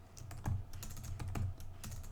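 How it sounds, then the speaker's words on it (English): A computer keyboard is typed on in a quick run of close, soft, uneven key clicks, heard alone with no voices. "We're going to type in rank."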